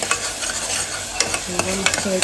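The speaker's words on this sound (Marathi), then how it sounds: "मी भाजीला फोडणी देतो डालीला तर फोडणी दिली" A steady crackling sizzle of spices frying to temper dal, with scraping stir strokes and a few sharp metallic clinks toward the end.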